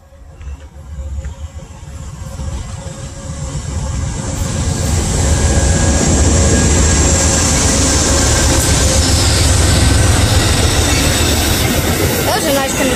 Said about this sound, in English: Well, this is a local Amtrak train.